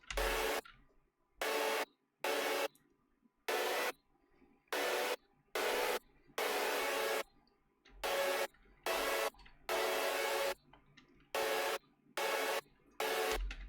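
Thick, buzzy layered future bass synth chord stack hits in a choppy rhythm, with short and longer stabs separated by sharp silences.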